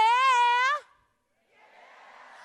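A forum audience shouts yeah. One loud, sustained voice comes first, then after a short silence a fainter crowd calls out together.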